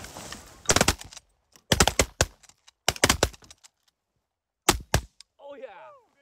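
Shotgun blasts during a mixed-bag waterfowl hunt in western Manitoba, Canada, several sharp loud reports fired in quick clusters nearby, followed by a faint duck call at the end.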